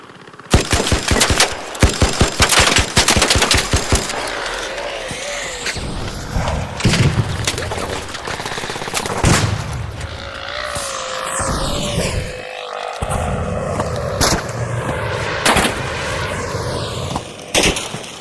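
A PvE firefight in the video game ARC Raiders: a rapid burst of gunfire, then heavy booms and thuds of exploding seeker grenades and continued shooting, loud and sustained for nearly twenty seconds.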